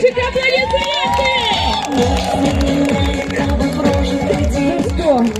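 Audience on a riverboat cheering and clapping loudly to rhythmic dance music with steady beats, many voices mixing together close by.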